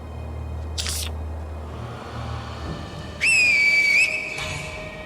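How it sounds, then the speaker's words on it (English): A finger whistle in the video game Sekiro sounds as one sharp, piercing tone lasting about a second, rising briefly and then holding steady, heard over a low background rumble after an earlier short burst. "Before you use that finger whistle, again, make sure you have locked on."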